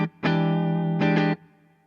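Clean electric guitar through a Ceriatone Silver Jubilee 2525 amp, British style, with gain set mid: a brief note, then a sustained ringing chord, then a second strum that fades out, played alone.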